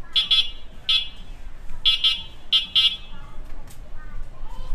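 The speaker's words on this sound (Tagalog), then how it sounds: "Yan yung ating horn." Short high-pitched horn beeps from a 2022 Mober X10 motorcycle in quick pairs, a few bursts spaced out over several seconds with background noise between.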